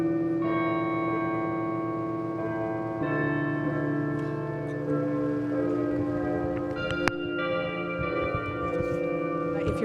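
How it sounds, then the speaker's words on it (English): Large tower bells ring out in a sustained, resonant peal, overlapping tones layering into a rich, echoing chime that continues throughout without any talking. "you're wondering what all those bells are"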